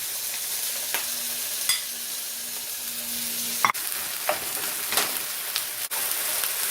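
Sliced onions sautéing in a teaspoon of oil in a frying pan over a medium-high burner, giving a steady close sizzle with occasional stirring clicks and scrapes, no voices over it.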